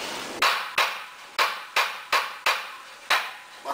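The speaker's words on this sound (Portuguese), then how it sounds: "Bater suavemente, tá? Pra não quebrar a peça, ok? É uma marreta comum" A common sledgehammer gently tapping a draining floor paver in a backyard gives seven sharp, close knocks in a fairly steady rhythm, each decaying quickly, with no voices.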